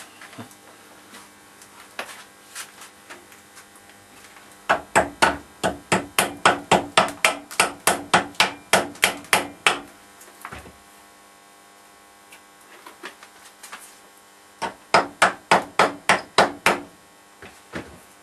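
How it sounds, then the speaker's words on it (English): Quick series of sharp metallic taps from a small hammer chipping slag off a weld, coming in two bursts over a low electrical hum, no talking. "So we chip away the slag. I've got a hammer."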